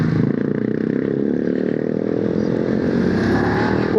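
A Voge motorcycle engine pulls hard in second gear, a loud, steady buzzing drone with continuous wind roar as the bike accelerates, heard close from the rider's position.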